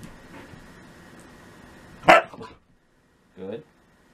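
A husky gives a short loud bark and then a brief howl-like yelp after a pause, close by, against faint background noise and a person urging it on.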